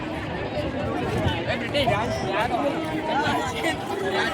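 A dense crowd chatters and murmurs at a jet fighter air show, a steady wash of overlapping voices close around and loud throughout.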